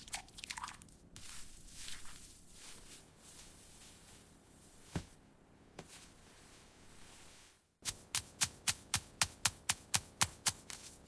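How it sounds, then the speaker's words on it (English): Fresh ginger and garlic being ground into paste in a tiny miniature village kitchen, with scattered crunches and taps at first, then a quick steady run of sharp close grinding strokes after a brief pause, no talking. "carefully grinding fresh ginger and garlic into a rich, aromatic paste"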